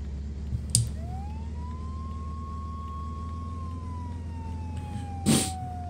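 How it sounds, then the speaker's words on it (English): Police siren from the emergency-services video game Flashing Lights, a single steady electronic tone that rises, holds and slowly falls, sounding over a constant low engine drone with a couple of brief bursts of noise. "That's the sound of the police."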